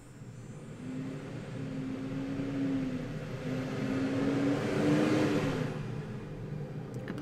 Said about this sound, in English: Apologies for big truck.